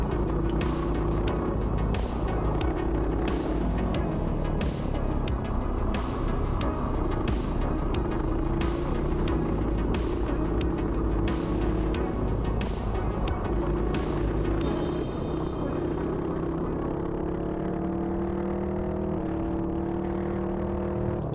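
Go-kart engines racing wheel to wheel in a Macey Cup race, a loud, continuous buzzing drone with rising and falling pitch as karts run in a slipstream and pull alongside toward a corner.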